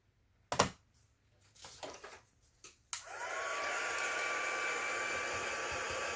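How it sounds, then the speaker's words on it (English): A heat tool blows steadily and loudly to dry pigment ink on a paper print from embossing-folder card work, its whoosh starting after a few short handling clicks and taps. "Pigment inks take a little while to dry, so I'm just going to use my heat tool."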